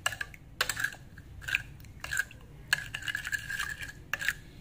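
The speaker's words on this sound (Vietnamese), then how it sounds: "các bạn đánh đều lên cho nó hỗn hợp này nó đều lên" Fish sauce mixture with a spoonful of oyster sauce being whisked for fried pompano, giving repeated light clinks and scraping strokes against a bowl, close and fairly quiet.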